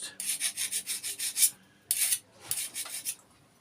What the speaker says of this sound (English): I would just go around with a file like this and just gently rub on the back or the front